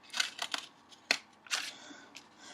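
Scissors snipping through a paper plate, a few sharp close cuts in an irregular rhythm with short pauses between strokes, no talking.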